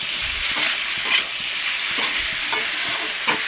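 Chopped prawns, about 100 grams, sizzle loudly in a hot pan with steady frying hiss, broken by several scraping stirs at roughly half-second intervals, close up and with no talking.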